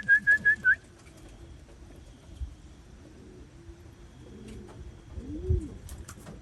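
A racing pigeon gives a quick burst of about four clear whistled coos at the start, followed by softer low cooing and faint rustling in a quiet loft, with no talking.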